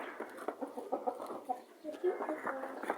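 A rooster clucks repeatedly in short, choppy bursts, fairly close, with faint background noise throughout.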